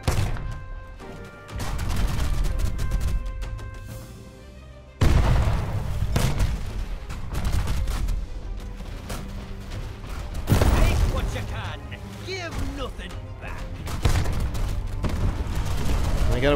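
Cannon fire from an upgraded ship cannon in the pirate video game Unearned Bounty: a run of loud booming shots and explosions over game music, with blasts recurring at irregular intervals.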